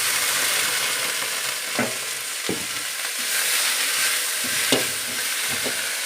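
Mudakathan leaves sautéing in a pan, a steady close sizzle with occasional sharper crackles and brief stirring scrapes, no talk.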